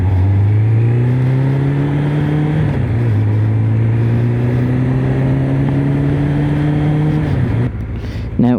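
A car passes on a road, heard from a moving motorbike as a loud, steady engine drone with a rising whine that drops as it goes by, then a brief gust near the end.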